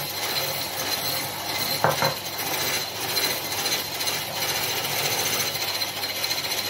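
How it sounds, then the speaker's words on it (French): An electric mixer whips egg whites as sugar is added for a chestnut Yule log, giving a continuous close buzzing whir with a brief clattering knock partway through. "mes blancs sont montés aux 3/4. Je vais rajouter mon sucre pour les serrer"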